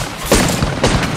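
Rapid automatic gunfire from an R-301 Carbine in the mobile battle-royale shooter Apex Legends Mobile, two dense bursts of sharp cracks close up over constant game noise.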